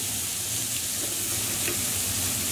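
Chopped onions sizzle steadily in hot oil in a pan, an even, close, continuous frying hiss with no voices over it.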